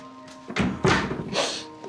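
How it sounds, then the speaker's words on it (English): A door in a newly built accessible home is swung and shut, giving several dull thunks and a hollow thud up close over a low steady background hum, without speech. "Wait, I'm gonna shut the door."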